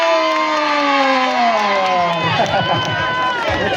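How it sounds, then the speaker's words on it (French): A school crowd at a quiz competition final cheers and shouts loudly, with sustained voices, whoops and some clapping filling the space throughout. "On applaudit très fort."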